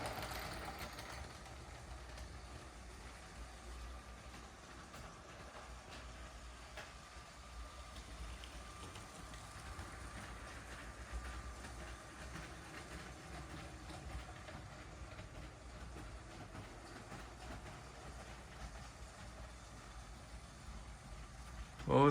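A LEGO Union Pacific toy train running on layout track makes a faint, smooth, continuous whir and light rail clatter, low in level and unbroken throughout.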